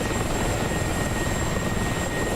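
A Mi-24 helicopter in a combat flight simulator makes a steady, loud rotor and engine roar with a thin whine on top. The sound is dense and unbroken throughout, with no talk.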